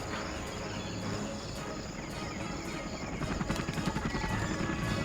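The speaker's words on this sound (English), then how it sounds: "Skippy had brought in a couple of helicopters to try and take over" Helicopters arrive in a 3v3 real-time strategy game, a continuous low rotor drone under game ambience that thickens into a faster, louder chopping pulse toward the end.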